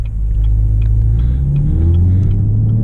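Chevrolet Camaro V6 1LE pulling hard in third gear on a cool night, a loud, close, steady engine drone rising in pitch through the pull, with deep exhaust rumble and no talk.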